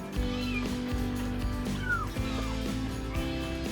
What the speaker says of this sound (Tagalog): Kunin ko lang yung kuting ko guys ha. Iiyak.